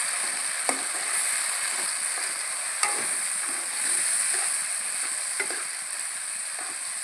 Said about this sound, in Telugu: కట్ చేసుకున్న టమాటాలు నూనెలో పోసిన.